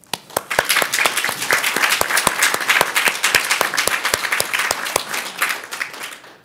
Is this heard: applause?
yes